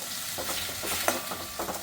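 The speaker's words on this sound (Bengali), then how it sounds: "একটু জল দিয়ে আমি ভালো করে কষিয়ে নেব" Ground spices frying with a splash of water in a pan for a Bengali fish curry, crackling sizzle broken by short scraping stirs, close and fairly quiet.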